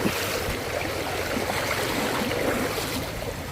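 Strong stream current rushing during a wade across on a rainy day, a dense, continuous burbling roar of water close by, with no clear voices.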